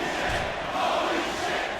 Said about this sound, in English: the crowd cannot believe Rey's kick out from just a moment ago